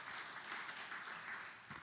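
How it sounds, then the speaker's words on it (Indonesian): A church congregation applauds during a sermon, producing a soft, continuous patter of many hands clapping with no distinct peaks and no talking on top. "Yang percaya beri tepuk tangan yang meriah bagi Tuhan Yesus."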